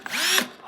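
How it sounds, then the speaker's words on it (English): A Milwaukee cordless drill whirs up briefly under test against other brands, a rising motor whine that holds steady for under a second before spinning down, close and loud with no talk. "I was not a Milwaukee guy until I tested this drill against the DeWalt"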